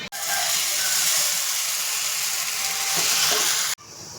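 Dosa batter meets a hot griddle (tawa) with a loud, steady sizzling hiss that holds for several seconds, then cuts off abruptly to near quiet.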